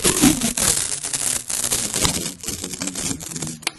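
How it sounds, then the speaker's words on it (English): A crackly, ripping noise of tape peeling off a roll runs almost continuously up close, ending with a sharp snap. "I need to just tape the bandaged area."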